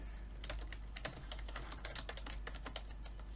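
Rapid typing on a new computer keyboard, a steady run of crisp key clicks close to the microphone, with no talking.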